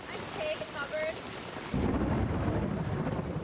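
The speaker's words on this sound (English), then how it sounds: "Thunder began rumbling" Thunder rolls in during a rainstorm outside a Garden Hills early voting line in Atlanta, a deep, loud rumble swelling midway over steady rain, after a few faint bird-like chirps.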